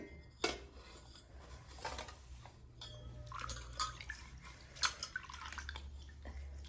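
Water splashing and trickling over silver puja items being rinsed, with occasional clinks of utensils, close and fairly quiet, no talking.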